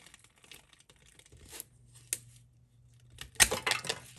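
Pruning shears cut the graft portion off a bare root rose, giving a few sharp close snips and crackling rustles of woody stem, the strongest snap coming near the end.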